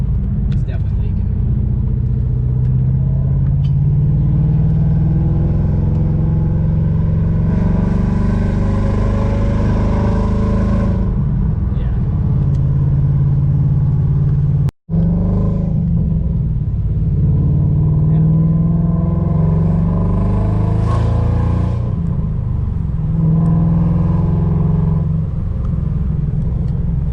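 A 2019 Ford Mustang runs with leaking exhaust headers, giving a deep, steady rumble close by. The engine rises and revs briefly in two stretches, and voices talk over it throughout.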